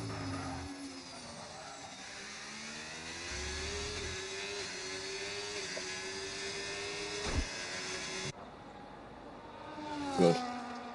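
A racing car engine from a sim-racing game on a tier-one Austria race drones steadily, its pitch rising and falling through gear shifts, with a sharp knock and a brief louder burst near the end.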